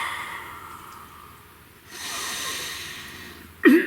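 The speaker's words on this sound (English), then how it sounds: "Please take a nice deep breath." A slow deep breath drawn in through the nose, a soft airy inhale swelling near the middle, then a sharp close snort-like exhale at the end, no talking.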